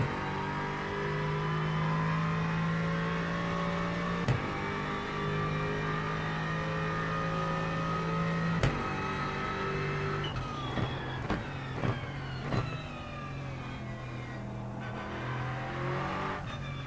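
Aston Martin race car in iRacing sim racing: a steady, loud engine drone holding revs, broken by sharp gear-shift blips, then a run of quick upshifts with the pitch climbing and falling.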